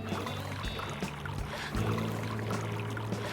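Water splashing and trickling steadily through a caught striped bass's gills alongside a boat in cold water, with a low trolling-motor hum underneath; a continuous, close wash with no talk.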